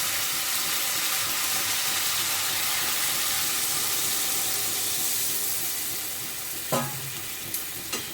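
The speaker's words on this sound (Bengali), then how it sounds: "এই অবস্থায় আমি আমার যতটুকু জলের দরকার আমি দিয়ে দেবো" Cauliflower frying in oil sizzles loudly and steadily as water goes into the pan, a dense close hiss that eases slightly toward the end, broken by a few soft clinks.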